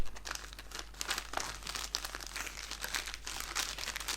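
Plastic wrapping on a parcel holding a smart children's phone watch ordered from AliExpress crinkles and crackles steadily at close range, with no voices.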